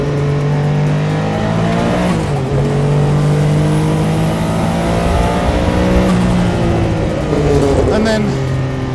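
A Porsche 962 Le Mans race car engine roars close and loud, pitch rising as it accelerates, dipping briefly at a shift before climbing again toward the top end.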